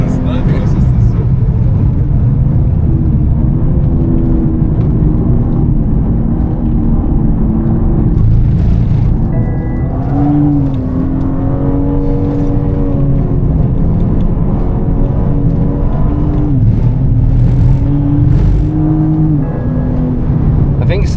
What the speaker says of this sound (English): It gets in the rev limiter.